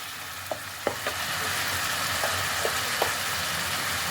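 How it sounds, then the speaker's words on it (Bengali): Spices sizzle in a pan with a little water while being sautéed for vegetarian Kashmiri stuffed aloo dum, a steady close hiss broken by a few soft clicks of stirring. "এবার মশলা দিয়ে ভালো করে এটাকে কষিয়ে নিতে হবে"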